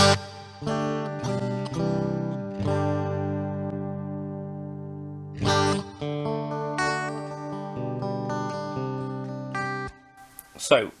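Electric guitar played through a GFX10 multi-effects unit with reverb switched on, sustained chords and notes ringing out with a long wash of reverb tail, fairly loud and close, with no talking over it.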